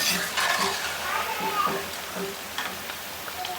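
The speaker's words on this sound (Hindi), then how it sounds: "सारा गोभी हम एक बार में डाल के फ्राई कर लेंगे" Cauliflower pieces fry together in oil in a pan, a soft steady sizzle broken by the occasional clink of stirring, heard under a voice talking throughout.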